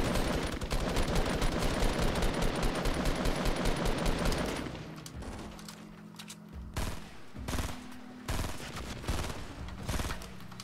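Rapid automatic gunfire in the video game Fortnite roars as a dense, continuous barrage for several seconds, then breaks into scattered separate shots and short bursts.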